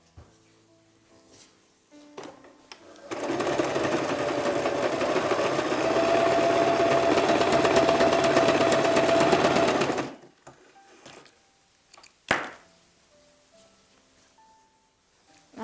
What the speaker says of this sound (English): I will be using a zigzag stitch method to finish the edge of this.